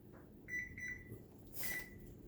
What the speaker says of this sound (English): So let me turn my oven on. I'm going to put it on 400.